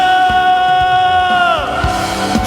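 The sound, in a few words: church congregation applauding and shouting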